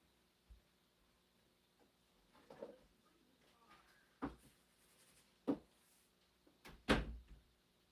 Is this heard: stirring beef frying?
no